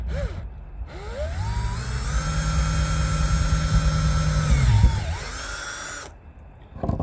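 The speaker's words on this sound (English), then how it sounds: "we're going to drill one with the regular size." A power drill with a regular-size bit bores the center hole of a homemade antenna feed point, a close whine that spins up, holds a steady loaded grind for several seconds, then winds down.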